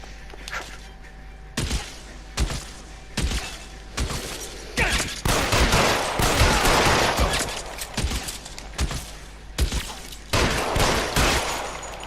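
Gunfire in the video game L.A. Noire: repeated loud shots and bursts in a shootout, coming in clusters with brief pauses, then a sustained heavy volley in the middle before more spaced shots.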